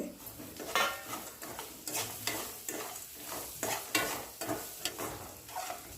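Carrots with salt being stirred in a pan, a soft low sizzle under a rhythmic series of scraping, clinking spoon strokes against the pan, close and moderately quiet.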